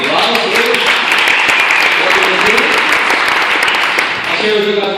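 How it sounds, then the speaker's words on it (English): Audience applause for brand-new company promoters at an event in Burnaby, a dense, steady roar of many clapping hands filling the room for the full five seconds, with a few cheers and voices mixed in. "Give these guys a round of applause."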